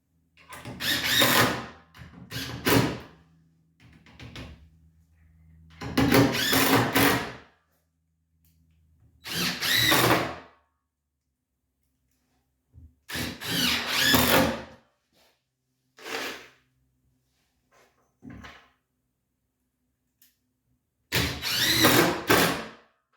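A power drill drives inch-and-three-quarter screws into a wooden raised garden bed frame in repeated short whirring bursts, each a second or two long, separated by quiet pauses.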